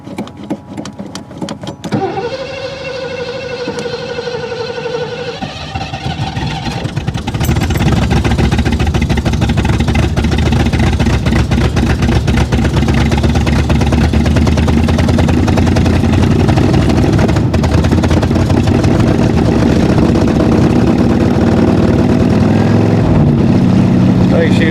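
A Granada car being jump-started from a truck after apparently flooding: a few seconds of quieter cranking and whirring, then the engine catches and runs loud and steady close by for the rest of the clip.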